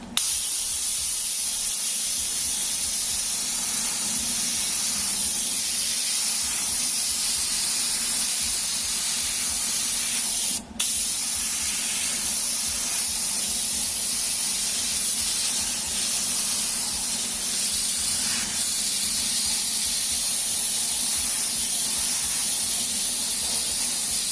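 A continuous, wide airbrush spray hisses steadily for a long stretch, broken by one brief pause partway through, with no talking.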